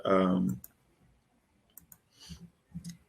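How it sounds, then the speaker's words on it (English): Computer mouse clicks while building corners are traced on a map, sounding as a few sharp, separate clicks spaced out between brief bits of a voice. "I'll just click all the corners."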